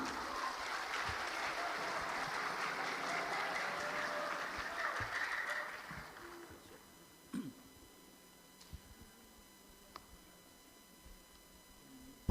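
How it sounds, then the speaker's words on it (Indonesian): A crowd applauds at the women's Fahmil Qur'an team final of a national MTQ Quran competition, a moderate steady clapping that fades out after about six seconds, leaving a quiet room with a few scattered knocks. "Bersama-sama kita berikan tepuk tangan bersama."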